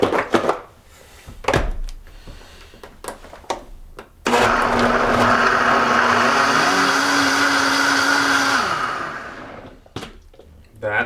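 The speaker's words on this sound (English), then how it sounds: "And we blend." A blender whirs steadily for about four seconds, blending a green smoothie of dandelion greens, strawberry, mango, orange and a pint of water, loud and continuous before winding down, with clatter and handling noises before and after.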